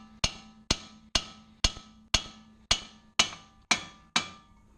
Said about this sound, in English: Grab a hammer and tap.